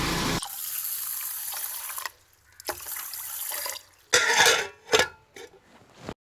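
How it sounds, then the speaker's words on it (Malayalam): Urad dal being rinsed by hand in water: close splashing and sloshing with running-water hiss, broken by short pauses and a few sharper swishes toward the end, no talking. "ഇതിനി നന്നായി കഴുകിയിട്ട് നമുക്ക് 6 മണിക്കൂർ കുതിർക്കാനിടണം."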